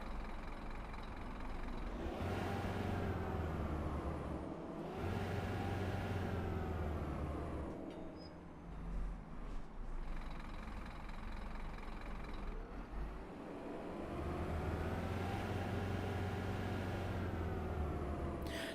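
A Prevost H3-45 bus engine running in American Truck Simulator, a low diesel rumble that rises and falls in several long revving swells, steady and fairly close with no talking.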